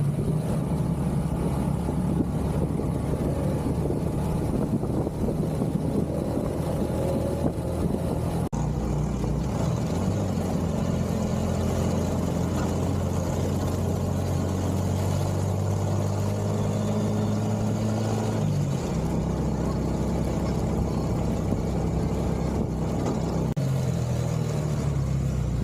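A motorized tricycle climbs a steep uphill road toward Tagaytay Sky Ranch, its engine droning continuously and shifting pitch as it labors, with no talk over it.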